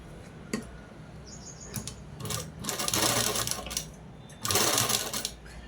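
A sewing machine stitching box pleats on a long frock, running in close bursts of rapid mechanical chatter with short pauses between runs.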